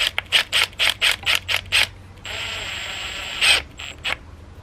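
An MXR tube expander works an aluminum tube, making a run of quick, evenly spaced ratcheting clicks, then a steady creaking squeeze, a louder click and a couple more clicks, close and clear.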